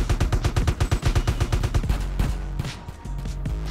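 AK assault rifle fire in GTA San Andreas rattles in a fast, loud automatic burst of evenly spaced shots, then trails off into a few scattered reports and echo.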